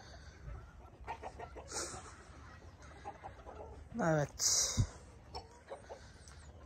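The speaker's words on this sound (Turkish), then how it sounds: "Tavuklarımız, süs tavuklarımız böyle gidiyor yani" Ornamental chickens on a small farm cluck and squawk in short bursts, with one sharper rising call near the middle, while a person speaks briefly nearby.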